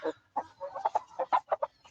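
A Brahma chicken clucks in a quick run of short, choppy notes, fairly close and moderately quiet, with no talking.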